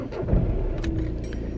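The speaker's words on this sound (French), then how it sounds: "je mets le moteur de ma voiture en route" A car engine turning over and idling low while rain falls outside, with a few light clicks and rattles, a steady close rumble throughout.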